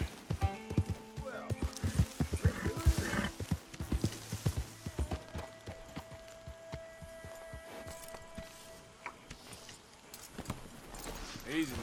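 Horses in the video game Red Dead Redemption 2 clop about and shift nearby, with uneven hoof knocks, a faint whinny and steady background noise under occasional speech.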